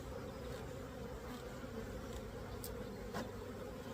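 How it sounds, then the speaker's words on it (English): Bees buzz densely and steadily inside an open hive during a hive split. The faint, continuous drone shows no clear pauses, and a few brief clicks and taps sit on top of it. "since there's so many bees in this hive"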